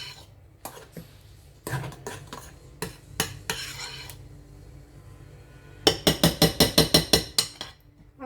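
Dough is mixed by hand in a bowl, with scattered utensil scrapes and clinks that end in a quick, rhythmic run of sharp knocks against the bowl.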